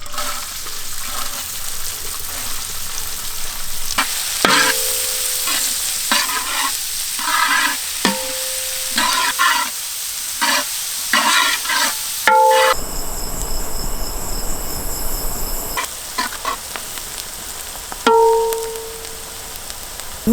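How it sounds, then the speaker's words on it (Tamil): Chopped onions fry in hot oil with cumin seeds during outdoor village cooking of banana flower kootu, a steady loud sizzle broken by scraping stirs and a brief watery hiss. "அப்படியே நறுக்குன்னு வெங்காயத்தையும் போட்டு வேண்டியான்."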